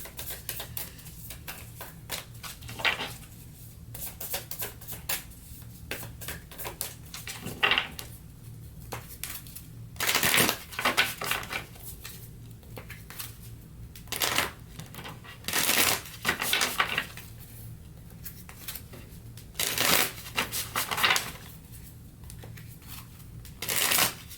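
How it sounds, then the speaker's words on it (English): Tarot cards being shuffled by hand: repeated crisp riffling bursts and shorter flicks, close and fairly loud, coming in irregular clusters with quiet gaps between them. "let's pull some more cards here to see exactly what's going on"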